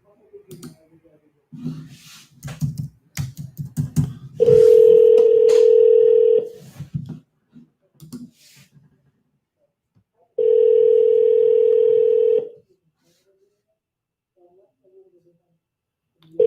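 Telephone dial tone on an outgoing call to a landline, two long steady tones separated by a pause, preceded by faint clicks and dialing sounds.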